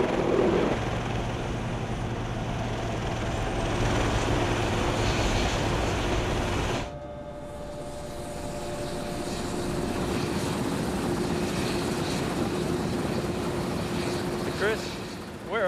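Continuous heavy rotor and engine drone inside a helicopter flying offshore to the Perdido oil platform in the Gulf of Mexico, loud and steady with a shift in tone partway through.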